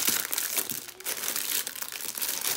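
Foil cupcake cases crinkle and rustle as they are handled, a close, crisp crumpling that comes in uneven bursts.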